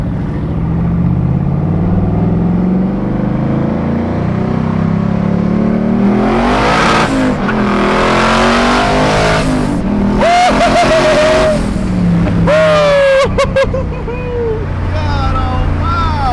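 A twin-turbo junkyard LS-swapped car accelerates hard with a loud, constant engine roar and rising turbo whine. Short whistling spool and blow-off sounds come near the end, and excited voices are heard inside the car.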